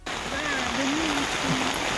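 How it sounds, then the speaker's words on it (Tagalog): Heavy rain heard while walking outdoors, a dense continuous hiss and patter close by, with a faint voice humming or speaking underneath. "Umuulan guys,"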